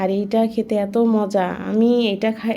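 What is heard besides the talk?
No everyday noises stand out.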